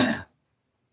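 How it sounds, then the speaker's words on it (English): A single short, harsh cough up close from a person with pleurisy, then silence. "hence the cough"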